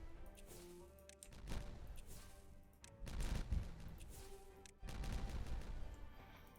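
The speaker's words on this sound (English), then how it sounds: "How are we going with our dynamite up here? These are all done. Let's detonate them." Several loud blasts from dynamite charges detonating in the beaver colony-building game Timberborn, with three broad booming bursts at roughly even spacing, each rumbling out over a low game background.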